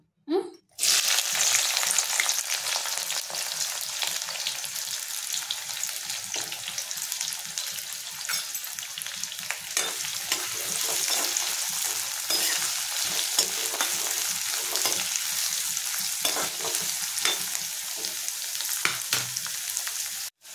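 Sliced onions and green chillies hit hot oil in a loud, continuous sizzle that runs nearly the whole time, with faint scraping from stirring underneath and no voices.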